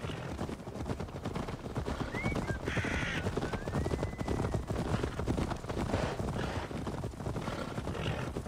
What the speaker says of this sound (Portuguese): Agora apertou o passo do cavalo.